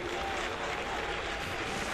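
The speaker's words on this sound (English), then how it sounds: "Oh, the golf clap is nice too" Golf clap from a crowd, a dense, even patter of many hands clapping softly and continuously with no voices over it.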